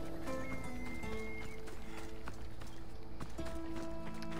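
A horse gallops and neighs in the video game Assassin's Creed Odyssey, with rhythmic clip-clop hoofbeats running steadily under game ambience and a brief whinny.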